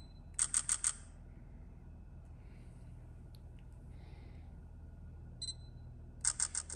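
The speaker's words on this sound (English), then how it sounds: "I'll take a picture of it upright." A camera shutter fires in quick bursts of three or four sharp clicks at the start and end, with a lone click between, while pinball machine parts are photographed during a Gottlieb Rocky restoration. A quiet room hush lies underneath.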